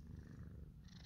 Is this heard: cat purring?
yes